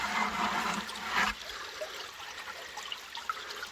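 Water rushing steadily through a gold panning sluice box, a broad continuous wash that swells louder at first, then settles into a softer running trickle with small splashes.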